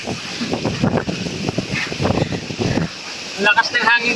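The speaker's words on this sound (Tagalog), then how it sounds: "Ang lakas ng hangin dito." Strong wind buffets a boat at sea, roaring across the microphone in a constant rush, with a voice talking over it and sharper splashy noises near the end.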